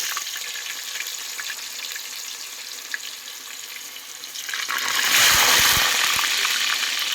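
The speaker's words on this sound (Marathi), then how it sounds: "आता हे तेल चांगलं काढलंय आता ह्याच्यात पनीर सोडायचं" Paneer pieces dropped into hot oil in a home kitchen hiss into a loud, close sizzle that swells over a quieter steady frying hiss, with no talking.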